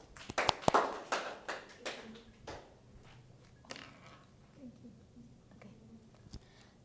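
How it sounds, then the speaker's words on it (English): A class of students gives a short round of applause, with faint, scattered hand claps bunched near the start and thinning into sparse taps and soft background murmur. "Give applause to them."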